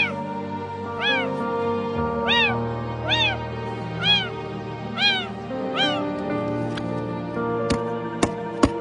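A kitten stuck in a plastic pipe at a landfill meows repeatedly, about seven close, clear, rising-falling cries at a steady rhythm over a low background drone, followed by a few sharp knocks.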